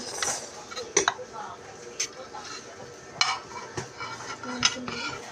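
Dishes and cutlery clink and clatter during washing up, in a string of sharp, irregular knocks and chinks close by, with people talking and laughing in the background.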